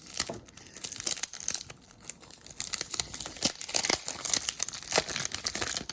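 Crinkly wrapper crackles and rips repeatedly, up close, as 1992 Topps baseball card foil packs are torn open and handled, with no voices.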